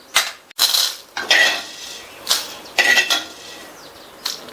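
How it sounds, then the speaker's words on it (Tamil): Roasted spices for a Tamil side-dish masala tipped from a plate into a mixer jar: a few separate clinks and rattling scrapes of metal and dry spice, short bursts with quiet gaps between. "மிக்ஸி ஜாரில் சேர்த்தாச்சு."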